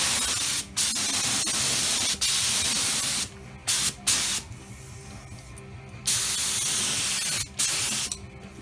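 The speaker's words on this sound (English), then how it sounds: "Let's go ahead and throw some sealer on there" Seam sealer sprayed onto the trunk seams of a Chevelle, a loud, close hiss in long continuous bursts separated by brief pauses.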